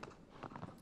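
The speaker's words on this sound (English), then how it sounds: "This is a very slow horse." Hooves of a slow horse walking in the video game Shadow of the Colossus, a soft, faint few steps in a brief stretch with no talk over them.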